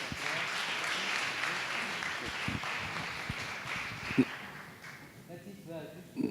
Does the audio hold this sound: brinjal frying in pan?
no